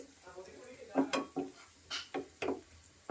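A metal spoon scrapes and clinks against a pan as chopped onion, seasoned with turmeric powder and a little salt, is stirred and sautéed, in a series of distinct knocks with a faint sizzle underneath.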